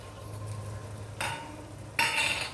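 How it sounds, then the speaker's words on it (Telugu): Mustard-seed tempering bubbling in a pan with salt and turmeric for raw banana chutney, a soft steady sizzle with faint stirring, rising in two brighter bursts near the end, with no talking. "ఈ పోపు ఇది ఉడుకుతూ ఉంటుంది కదా"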